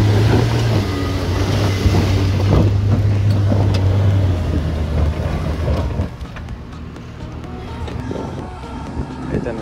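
A Jeep engine roars loudly as it climbs a steep rocky off-road track, with wind buffeting the microphone and the engine easing off partway through.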